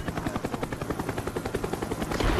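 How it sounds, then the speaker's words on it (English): A Cobra attack helicopter in a multiplayer shooter game thuds overhead with rapid rotor chop, mixed with bursts of gunfire and battle noise throughout. "Cobra inbound."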